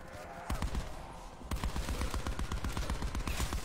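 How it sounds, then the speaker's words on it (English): A gun in Call of Duty Black Ops 4 Zombies fires rapid, loud shots. A short burst comes first, then after a brief pause a long steady stream of evenly spaced shots runs to the end. "Now you see why I hate this damn gun? Should not take that many shots."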